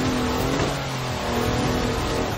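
A Mercedes wagon with 340 horsepower revs hard in the racing game Forza Horizon 4, a loud, continuous engine drone that holds steady and close with no pauses, alone without talk.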